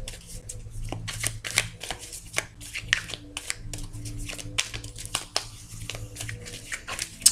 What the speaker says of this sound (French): nous allons bien mélanger ce jeu.